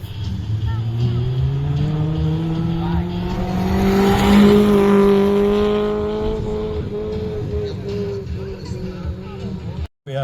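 Rally cars at the Imatra rally rev and roar past one after another, engine notes rising and sweeping by close and loud, with a crowd murmuring in the background.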